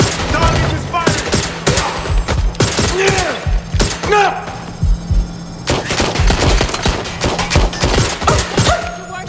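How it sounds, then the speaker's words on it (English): Rapid bursts of gunfire in Watch Dogs Legion, sharp cracks and machine-gun rattles repeating loud and close, punctuated by short pauses, with occasional voices underneath. "Target is firing!"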